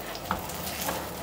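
Tadka spices for rasam crackle and sizzle in hot oil, a soft, even frying hiss with a couple of small pops, fairly quiet and heard alone.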